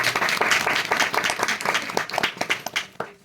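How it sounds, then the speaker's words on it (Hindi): A Bible class audience claps enthusiastically, a dense burst of hand claps with uneven rhythm that thins out toward the end. "ताली मारिए, ताली मारिए"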